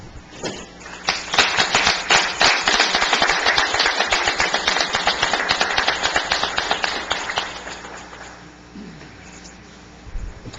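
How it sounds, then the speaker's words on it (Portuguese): A standing audience at a municipal council ordinary session gives a long round of applause, dense and sustained for several seconds before thinning out and fading toward the end. "solicito aos nobres pais do público presente que em pé façamos uma salva de palmas"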